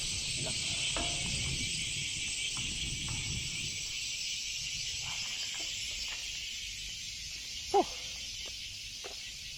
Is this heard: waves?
no